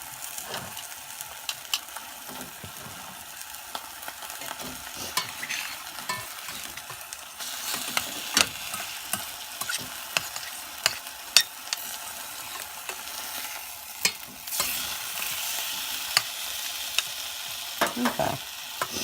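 Browned chicken fries in a pan, a steady close sizzle throughout with scattered pops, crackles and occasional stirring or utensil clicks, no voices.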